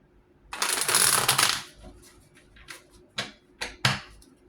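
Tarot cards being shuffled by hand: a long, dense riffling burst up close, followed by a few short separate snaps and taps as the deck is squared and cut, with no talking.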